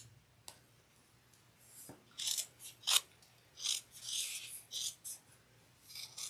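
Scissors cut through thick layered material for a clutch wallet, a series of close, crisp snips and scraping bursts in uneven rhythm over a quiet background.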